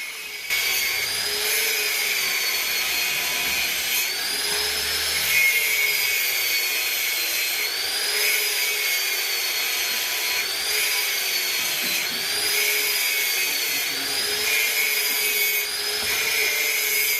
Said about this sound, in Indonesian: Lalu dipotong bagian karet yang terlalu panjangnya biar rata sama bos.